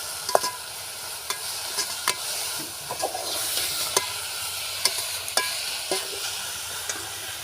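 Fenugreek leaf bhaji cooking in a pan on a wood-fired clay stove, a soft continuous sizzle broken by sharp scrapes and taps of a spoon stirring against the pan at an uneven rhythm.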